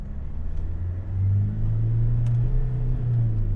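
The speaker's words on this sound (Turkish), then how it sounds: "El frenini de indirdim. Çok tatlı gaz verdim." A SsangYong Korando Sports pulling away under gentle throttle, its low engine rumble swelling slightly and holding steady, heard from inside the cabin without talk.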